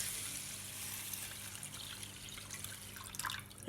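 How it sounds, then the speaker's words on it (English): Water pours and trickles softly onto a large quantity of rice being prepared for a spiced rice drink, a faint, continuous splash with some brighter spatters near the end. "So this is my water. I'm pouring it on it."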